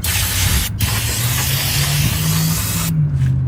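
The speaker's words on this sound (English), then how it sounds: "don't forget the spray. And we'll go quick shower." Spray cleaner hisses onto car brakes and rotors of a 2004 Honda Pilot, a loud continuous close-up spray with a brief break near the start and another pause near the end.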